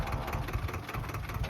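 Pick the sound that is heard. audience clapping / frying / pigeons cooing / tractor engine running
tractor engine running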